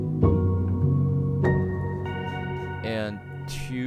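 Piano playing the intro of a song, a few sustained chords struck at intervals and ringing out, with brief brighter synth-like accents near the end.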